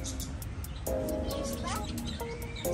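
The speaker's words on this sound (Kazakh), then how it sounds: "Құстар бар екен." Small birds chirp and tweet at a zoo, a run of short high calls and twittering near and far over a busy outdoor background, with people talking.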